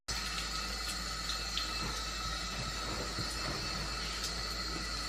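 Tap water runs steadily into a sink while makeup sponges are rinsed, a constant close splashing flow with no talking over it.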